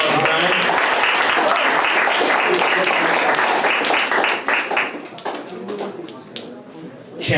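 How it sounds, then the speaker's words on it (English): A crowd at an open mic night applauds Ryan, dense sustained clapping with some cheering that gradually thins and fades toward the end. "Everybody give another round of applause for Ryan."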